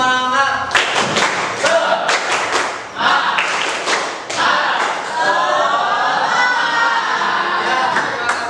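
Children perform the tepuk semangat clapping chant in a classroom. Rhythmic group clapping and thumping comes in bursts alongside shouted voices and ends in a sustained cheer.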